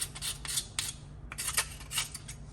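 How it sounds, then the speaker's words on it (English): Mussel shells are scraped with a utensil to clear dirt and sand, a quiet series of short, rasping scrapes in quick uneven strokes over a low background hum, with no talking. "You're going to make sure you scrape it like this to get off the excess dirt and sand."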